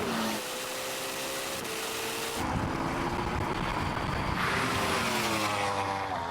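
A Porsche Taycan Turbo GT accelerates hard in a drag race against a Ferrari SF90 and a Yamaha R1M, a loud rising electric whine and rushing wind that swells as it passes close, steady throughout with no talk.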